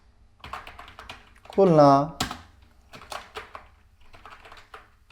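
Keys clatter on a computer keyboard as text is typed into a PowerPoint slide, a quick run of clicks mixed in with steady talking from a nearby voice.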